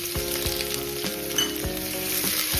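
Finely chopped medium onion dropped into hot oil with crackling mustard seeds, a loud continuous sizzle close by with spatula knocks against the pan every half second or so.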